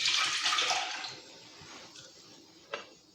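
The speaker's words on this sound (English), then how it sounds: "I will put my milk" Milk pours into a pot for a semolina dessert with a close, splashy rush that fades after about a second, followed by a small drip or clink.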